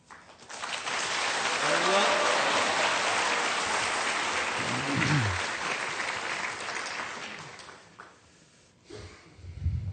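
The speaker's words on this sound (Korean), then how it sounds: "목사님 나오실 때에 박수 치면서 큰 목소리로 할렐루야로 환영하시겠습니다" A church congregation breaks into loud, sustained applause to welcome the pastor, clapping building quickly and holding for several seconds with voices rising within it before fading near the end.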